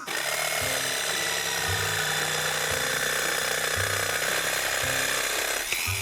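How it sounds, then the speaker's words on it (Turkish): A steady, loud electric drill whine runs throughout, with its pitch rising and dropping in short bursts as it bites into a thin metal jar lid. "Matkabım var onu kullanacağım"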